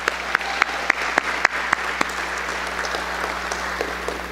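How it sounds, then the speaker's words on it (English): Clapping breaks out for parents at a summer youth employment program event, a few sharp, distinct claps standing out at first before the applause settles into a softer, steady patter. "Let's give the parents a round of applause."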